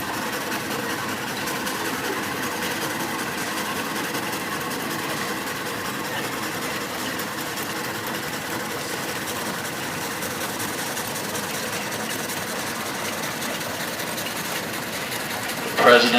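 A 1914 Case 40 horsepower steam engine runs steadily at an evening parade, giving a continuous mechanical chug and hum at an even level with crowd and announcer noise blended in throughout.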